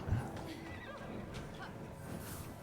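A horse neighs in the fantasy video game Immortals Fenyx Rising, a single sharp whinny at the start followed by quieter game ambience with faint hoof sounds.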